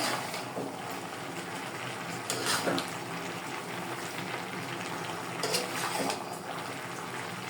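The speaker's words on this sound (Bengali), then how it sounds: "এই এটা আমার লাউ ডালটা এরকম হইতেছে লাউটা সিদ্ধ হয়ে যেতেছে প্রায়" Bottle gourd and lentil dal boiling in a pot, giving a continuous low bubbling and simmer with two brief louder surges of splashing or stirring.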